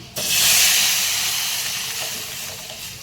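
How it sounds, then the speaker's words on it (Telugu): Red lentils hit a hot pan of tomatoes with a sudden loud sizzle that hisses steadily and slowly fades, with no talking. "ఇగో పప్పు వేసేస్తున్నా"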